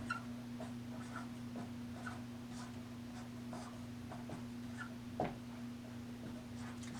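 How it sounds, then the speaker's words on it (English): Pen or marker scratching out a math equation on a surface, a run of soft, close, irregular strokes and taps under a constant low electrical hum, with no speech. "Let's write down the second equation, substituting in those values."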